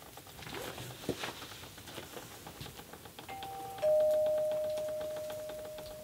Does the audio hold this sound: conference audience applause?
no